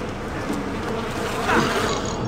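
A swarm of bees from a broken nest in a video game gives off a constant, loud, close buzzing drone that swells slightly partway through and plays with almost no talk.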